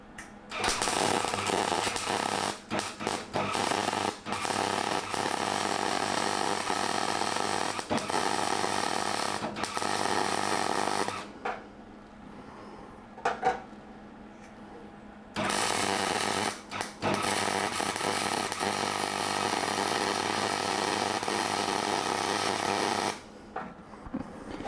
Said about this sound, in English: it's starting to weld